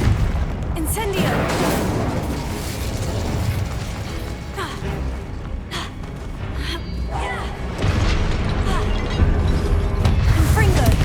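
Spell explosions and magical impacts from the Hogwarts Legacy video game, a dense run of booming blasts, pops and mechanical clatter layered over continuous loud game noise.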